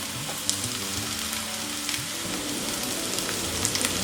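Bitter gourd pieces fry with browned onions in a pan, giving a steady, dense sizzle with faint crackles throughout, close and alone without voices.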